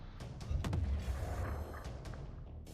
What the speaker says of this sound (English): now this can deploy into an artillery cannon